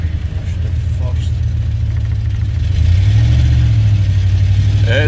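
A Ford F150 truck engine revs hard and steadily in first gear during a burnout attempt, a loud, sustained low roar that climbs in pitch partway through and holds, close by.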